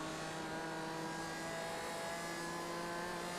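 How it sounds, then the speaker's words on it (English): A Hyundai Elantra race car at Bathurst in a racing game, its engine a steady high-pitched buzzing drone held at constant revs, loud and unbroken. "You can hear the Elantra buzzing away like a big"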